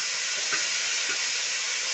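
Chopped tomatoes go into a pan of frying onion and curry leaves for a drumstick vegetable curry, giving a steady, bright sizzling hiss up close.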